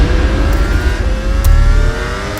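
A Ducati Panigale V4 S superbike engine revs hard and close, its pitch climbing as it accelerates, with a brief surge partway through before the loud, raspy drone continues.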